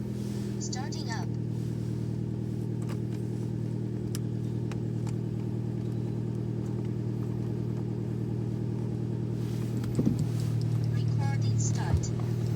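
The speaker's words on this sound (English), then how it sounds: "So I got the car started." An Alfa Romeo Mito engine idles steadily at a low, even drone close by throughout, with a brief rev or clatter near the end and light handling noises on top.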